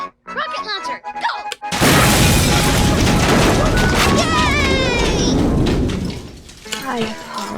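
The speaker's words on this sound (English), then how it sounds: "Quick, we gotta blow something up so they'll laugh at it! Rocket launcher, go!" A sudden loud rocket-launcher explosion bursts in after a brief spoken line and roars on for several seconds before fading, with voices returning at the end.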